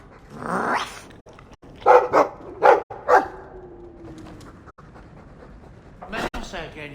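A dog gives a quick run of four sharp, close barks in the middle of the stretch, framed by a voice and softer vocal sounds before and after.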